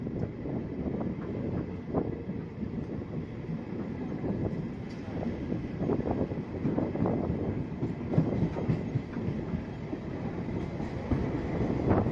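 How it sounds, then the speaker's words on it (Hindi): A local train on the Santragachi–Amta line pulls away from Jalalsi station and runs on, a steady, loud, low rumble with faint clickety-clack and wind buffeting the microphone throughout. "यहाँ पर भी कुछ देर ट्रेन रुकने के बाद अगले स्टेशन के लिए प्रस्थान करेगी।"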